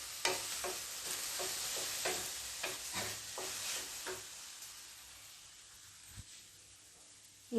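Okra with asafoetida and broad beans being stirred and sautéed in a hot pan, a steady sizzle with repeated scraping strokes of a spatula for the first few seconds, then a quieter frying hiss.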